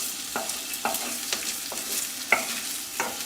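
Potatoes coated in salt and masala pan-fry over a slow flame, a constant sizzle punctuated by regular scraping strokes of a spatula stirring them around the pan.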